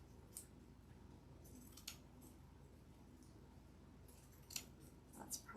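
Scissors snip red ribbon in half, giving a few faint, crisp cuts against a quiet room background.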